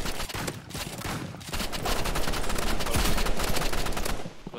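Rapid gunfire from a shotgun in the Roblox game Rivals, a dense run of loud, sharp shots crowding close together and continuing steadily for several seconds.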